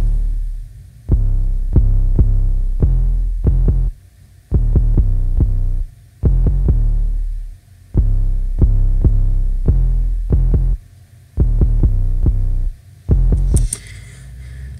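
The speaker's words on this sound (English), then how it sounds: "Here's the 808 pattern." Deep, booming 808 bass in a dark trap beat made in FL Studio, playing a repeating pattern of long sustained low notes with short gaps and quicker pulses, loud and heavy, with a brief bright noise at the end.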